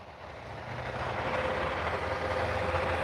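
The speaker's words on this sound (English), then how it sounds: "That is a 2023 truck for a oil change." A 2023 truck engine idling in a repair shop before an oil change, a steady low rumbling hum that swells slightly and holds at a moderate level with no talk over it.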